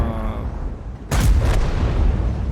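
A single heavy cannon shot from a Patton tank in a tank combat game, a sudden loud boom cutting in over the low rumble of engines and battle noise, followed by a sustained rumbling tail.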